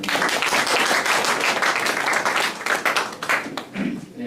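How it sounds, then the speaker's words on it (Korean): An audience at a talk-concert panel on agriculture applauds to welcome a panelist. The clapping is dense and loud, then thins out and fades toward the end, with a voice faintly underneath. "박수로 맞이해 주시기 바랍니다"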